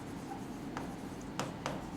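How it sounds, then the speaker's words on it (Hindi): Pen or marker writing on a board during a physics lesson: a few short, faint scratchy strokes under a quiet room hum, with no talking. "तो यहां हम लिखेंगे"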